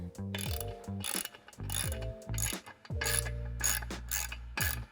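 A ratchet wrench on 12mm bolts of the intercooler charge pipe on a 2022 Subaru WRX clicks in several close, rapid bursts separated by short pauses, with no talking.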